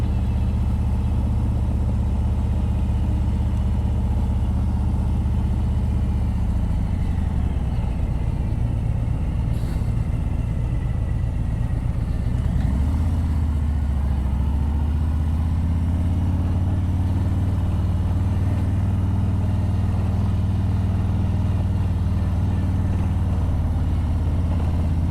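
A motorcycle engine runs steadily as the bike is ridden forward under throttle on a journey, a loud low drone that dips around the middle and then settles into a sustained hum, with no talking.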